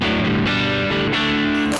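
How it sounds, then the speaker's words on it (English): Electric guitar played on the neck pickup through a Trex dual drive pedal into an amp's dirty channel, a few thick, sustained distorted chords that ring loud and close, with no talking. "the neck pickup sounds like this."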